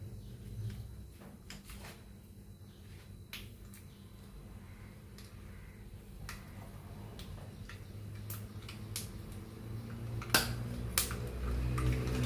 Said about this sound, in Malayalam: കടുക് പൊട്ടി വരുന്നത്